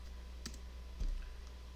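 Computer mouse clicks while deselecting in Adobe Illustrator, a couple of soft, quick ticks at close range over a low steady hum, with no talking.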